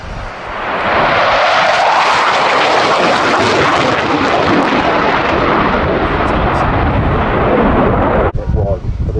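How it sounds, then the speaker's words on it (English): A Panavia Tornado jet with RB199 engines at full power streaks past low and fast at an air show, a loud, sustained roaring wash that builds quickly and holds, then cuts off sharply near the end. "RB199 engines at full jack."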